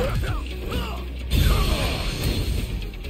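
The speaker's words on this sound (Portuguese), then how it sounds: "eu tô apertando um monte de botão aqui, tentando me habituar ao bagulho" Buttons and triggers on a QRD Maestro S3 controller for PS5 clicked rapidly and repeatedly, close to the mic, mixed with loud game sound effects including a crashing impact midway.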